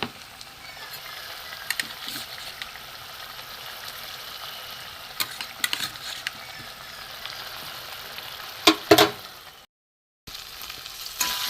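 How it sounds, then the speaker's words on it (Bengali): Potatoes and Gobindobhog rice frying together in a pan for a vegetarian jackfruit dish, a soft continuous sizzle with scattered stirring scrapes and a few louder clatters near the end. "আলু দিয়ে গোবিন্দভোগ চাল দিয়ে ভালো করে কষিয়ে নিয়েছি।"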